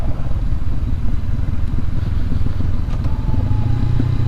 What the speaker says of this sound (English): Just let it engine brake all the way down